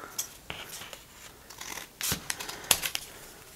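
Scissors snip through a paper template for a folded paper water lily, giving a quiet, irregular series of short crisp cuts and light paper rustles, close up and with no voices.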